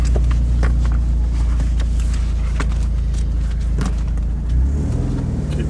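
Renault Megane RS with a knocking fault driving along, steady low engine drone and road rumble from inside the cabin, with a brief swell in engine note near the end and a few faint clicks over the hum.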